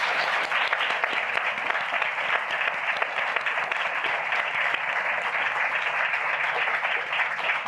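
Steady, dense applause from a gathered crowd holds at an even level for several seconds. The many overlapping claps blend into a continuous wash with no talking.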